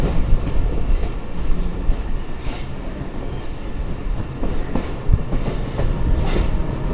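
A Bangladeshi commuter train on the Rajshahi to Rohanpur line rumbles steadily along the rails around a big curve, close and loud, with rattling wheel clatter and faint metallic squeals throughout.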